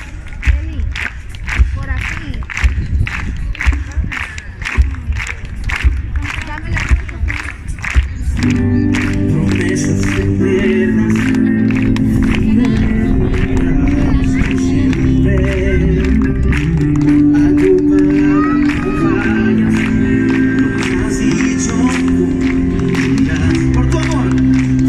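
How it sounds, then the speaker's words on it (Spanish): Rhythmic audience hand clapping keeps time with music for the first few seconds at a Christian concert in Lambayeque, Peru, then full band music and singing take over, with the clapping buried underneath. "A ver si me acompañan con sus palmas."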